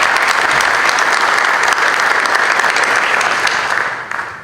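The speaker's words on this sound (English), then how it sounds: "Another round of applause for our recipients." An audience at a school board of education meeting applauds award recipients, a dense, steady wash of many hands clapping at close range that holds evenly before tapering off at the very end.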